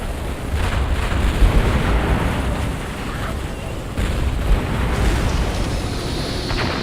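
Explosions from an ordnance strike in the Halo Wars video game make a dense, continuous roar of rumbling blasts, with a second surge partway through and no voices over it.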